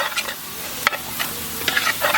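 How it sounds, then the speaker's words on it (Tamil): Goat trotter curry masala frying in oil in a pan and being stirred, with a continuous close sizzle broken by irregular scraping strokes of a spoon against the pan. "அப்படியே இந்த மசாலாவோட பிரட்டி விட்டுக்கலாம்."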